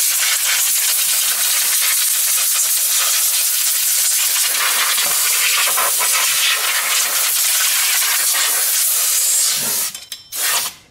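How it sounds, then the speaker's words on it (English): Compressed air blasting dust off the rear drum brakes of a 2008-2012 Ford Escape: a loud, close, continuous high hiss that cuts off near the end, followed by a couple of short bursts. "you can see with me using compressed air, I didn't really see no dust coming off of there"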